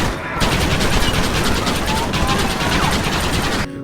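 Rapid bursts of gunfire from the video game Red Dead Redemption, from pistol to Gatling gun, rattle continuously, dense and loud, with mechanical clatter mixed in and a brief pause midway.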